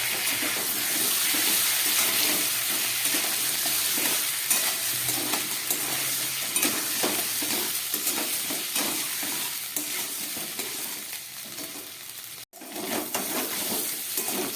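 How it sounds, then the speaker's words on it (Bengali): Boiled potatoes stirred and sautéing in ginger garlic paste in a pan, a steady close sizzle with frequent scraping stir strokes throughout and a brief break near the end. "সিদ্ধ আলুগুলোকে আদা রসুন বাটার মধ্যে খানিকক্ষণ আমি কষিয়ে নিলাম"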